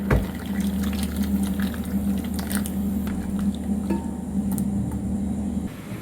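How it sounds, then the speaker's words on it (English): Coconut milk pours steadily into a Kerala-style vegetable stew, a continuous liquid splash and squish over a low hum from the pot, with nothing else in the pan at the same time. "Now we'll add this coconut milk."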